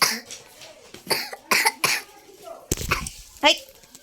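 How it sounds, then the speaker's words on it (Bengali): A child coughs in several short, sharp bursts close by, mixed with other vocal sounds and breathing during a home puja gathering, with loud spikes spread through the few seconds. "এই দেখো কেমন কাশছে"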